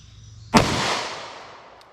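A single sharp 9mm pistol shot fired into a ballistic gel block, loud and close, with a bright crack that decays into a long ringing tail over roughly a second.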